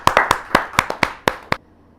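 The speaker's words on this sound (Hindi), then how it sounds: "जहाँ जोरदार तालियों के साथ" Hand claps ring out at a kavi sammelan poetry gathering: about nine sharp, evenly spaced claps in a quick rhythmic burst that ends abruptly.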